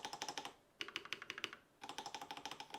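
Fast bursts of keystrokes on an IQUNIX mechanical keyboard with co-star stabilizers, crisp and close, with no rattle, coming in three quick runs separated by brief pauses.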